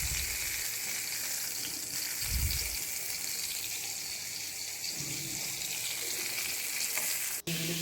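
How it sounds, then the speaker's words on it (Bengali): Eggplant slices fry in oil in a pan, a steady close sizzle with a few louder bursts of spattering and stirring, no one speaking. "দিয়ে বেশ লাল লাল করে বেগুনগুলোকেও ভেজে নিচ্ছি"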